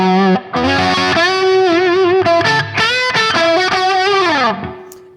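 Electric guitar lead through a Hughes & Kettner Tubemeister 18 tube amp: a smooth, compressed, overdriven melody with bends and vibrato, loud and continuous over about five seconds, played alone.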